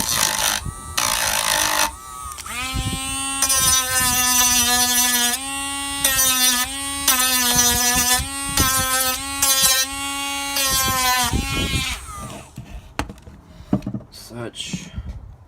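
A small rotary tool whines in repeated high-pitched bursts while working on a 1997-2003 Ford F-150 cupholder, starting and stopping several times, close and loud, then falling quiet into scattered clicks and handling noises.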